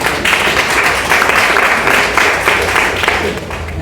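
Audience applause at a forum fills the room, a dense steady clapping that holds at even loudness for the whole stretch with no voices over it.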